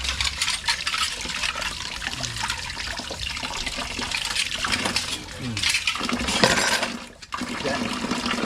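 Water runs steadily from a kitchen faucet during dishwashing, a continuous close hiss and splash with shifting flow toward the end and some background sound mixed in.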